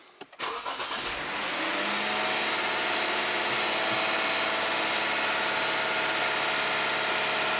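A 2015 Lexus IS250 V6 with a fault that keeps it idling high at about 2,100 RPM starts up with a brief crank and catch, then settles into a loud, steady, elevated idle close by.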